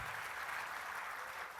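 A church congregation claps together during a sermon, a steady dense patter of many hands filling the room with no pauses.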